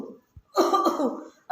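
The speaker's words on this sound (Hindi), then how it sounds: "फिर कहीं खांसने की आवाज़ आ रही थी" A single close, harsh cough bursts out after a brief pause, followed by the start of another.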